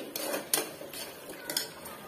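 Potato curry in a pan gets chili powder stirred through it, with a utensil clinking and scraping against the metal in light, quick taps that stay fairly quiet.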